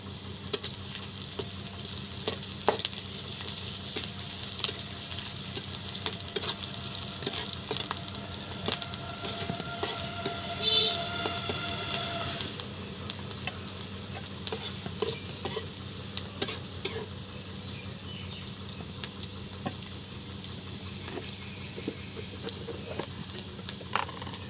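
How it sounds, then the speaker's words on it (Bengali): Onion and chili stirred and fried in oil in a wok before a boal fish curry, a continuous close sizzle broken by frequent scraping and tapping of the utensil, no voices. "একটু ভাজা ভাজা করে নিব।"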